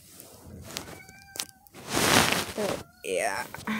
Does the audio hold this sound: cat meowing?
yes